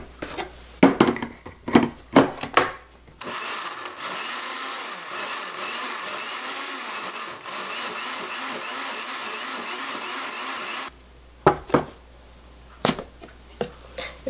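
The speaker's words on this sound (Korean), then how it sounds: "이걸 한번 믹서기에다가 돌려보겠습니다" Blender grinding chopped mugwort with about a cup and a half of water, a steady loud whirring roar lasting around eight seconds, framed by clattering and handling noises before and after.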